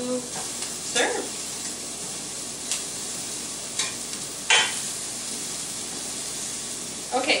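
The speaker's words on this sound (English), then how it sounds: "the butter is just starting to turn a little brown there" Butter sizzles and browns in a frying pan for a Brussels sprouts dish, a steady close hiss broken by a few scraping stirs.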